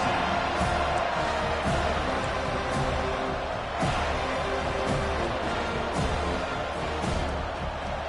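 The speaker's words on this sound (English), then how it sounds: "This crowd trying to show them what it's going to be like all day in this house." A stadium crowd in a college football video game, LSU at Florida State, roars as a dense, steady wash of noise with occasional swells, filling the whole stretch at moderate loudness.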